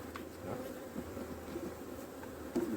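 Honey bees buzz steadily around an opened hive while a frame of bees is shaken into a box during swarm-making, a faint continuous drone low in level with no voices.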